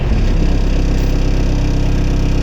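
Loud, steady mechanical drone of an engine heard from inside the cabin of a Trekol all-terrain vehicle with the motor mounted inside, a dense low rumble that continues without pause.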